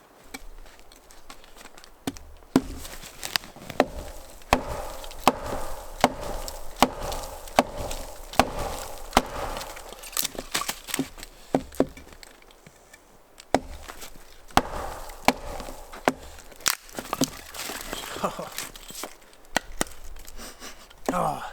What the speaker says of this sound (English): We'll start getting this split up, I guess, and